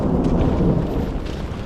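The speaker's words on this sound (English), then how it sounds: "As we departed, there was a flash of lightning followed by a rumble of thunder." Low continuous rumble of thunder during a storm high on Mount Toubkal, loud and broad, lasting throughout without pauses or voices.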